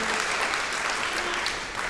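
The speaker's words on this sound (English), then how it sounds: "give him a round of applause" Audience in a church gathering applauding to welcome a new staff member, a brief, even burst of many hands clapping at moderate loudness, heard on its own.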